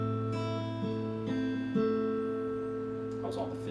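A minor chord picked fingerstyle on a classical guitar, with several notes plucked one after another and left ringing into a sustained, close, clean chord with no talking.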